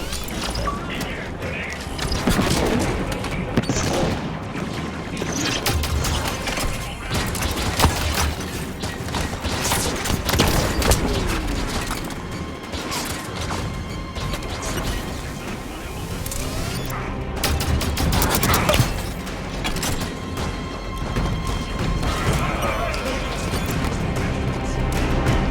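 Ongoing combat against turrets in Halo 5: Guardians: dense, continuous weapon fire, clanking mechanical hits and crashing impacts layered under game music for the whole stretch.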